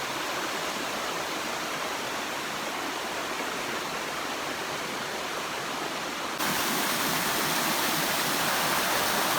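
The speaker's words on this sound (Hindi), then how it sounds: "बहुत ही सुंदर वाटरफॉल है ये।" Jungle waterfall pouring in a continuous dense roar of rushing water, steady and loud throughout with no voices.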